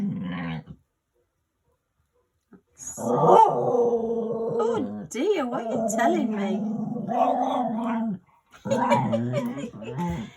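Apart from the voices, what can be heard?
dog growling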